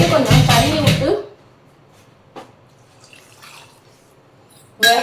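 Water is poured into a cooking pot of cluster beans and chili powder for kothavarangai paruppusili: a loud, close splash for about a second, then near silence with a few faint drips and a final splash.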